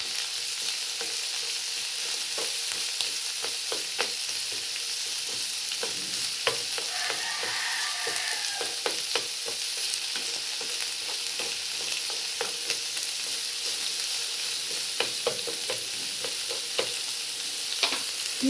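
Beefsteak sizzles and fries in a pan as it is stirred, with a steady hiss and a scatter of scraping, clinking stirs throughout.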